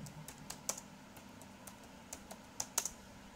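Keys clatter on a computer keyboard as text is entered into the Windows 10 search box, a quick irregular patter of clicks with a few sharper strikes, close and clear over a faint background hum.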